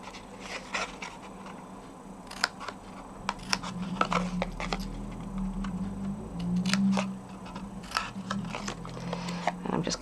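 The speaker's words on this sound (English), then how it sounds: "I'm just cutting a little slice out of the side that I cut" Scissors snip into card while a nautical box is crafted, a run of light, close crisp cuts and small ticks over a low hum, with a brief rustle of handled paper.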